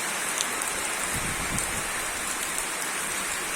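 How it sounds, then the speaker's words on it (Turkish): Steady rain falls on plants, pear trees and hazelnut bushes in a garden, a continuous dense patter with occasional louder drops, close and even throughout. "Çok güzel bir yağmur yağdı."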